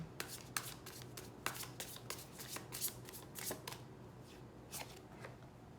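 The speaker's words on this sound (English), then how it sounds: "Last shuffle, then I take from the top and the bottom." Tarot cards being shuffled by hand, a steady run of crisp riffling flicks and taps, close and fairly quiet, with no talking.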